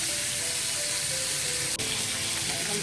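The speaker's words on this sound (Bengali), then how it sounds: "এটাকে উল্টে পাল্টে বেশ মচমচে করে ভেজে নেব।" Fish sizzling in oil in a frying pan as it crisps, a constant near hiss with one brief clack partway through.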